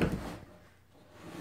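A kitchen cupboard door being opened or closed while unpacking dishes, one close wooden knock and thud at the start, then quiet room tone.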